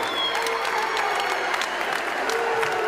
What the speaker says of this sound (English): a big round of applause to your runner-up, Dan Piper.